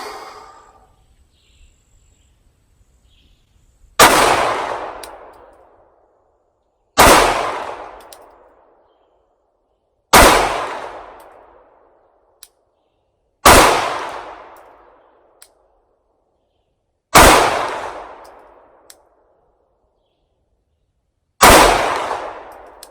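Six loud, evenly spaced rifle shots fired at a swinging steel silhouette target 100 yards away, each sharp crack followed by a long decaying ring, with no talking in between.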